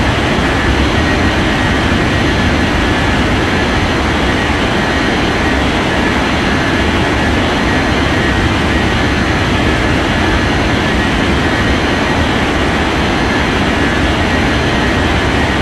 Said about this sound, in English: Finnair 8331, cleared for takeoff runway 14 right.